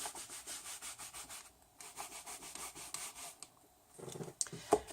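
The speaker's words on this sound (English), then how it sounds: "I'm going to clean that stamp with the Stampin' Mist and the Stampin' Scrub" A rubber stamp is scrubbed clean on a Stampin' Scrub pad after being sprayed with Stampin' Mist, giving a steady rhythmic rubbing and scraping that repeats close by, then a short pause before a few fuller scuffs near the end.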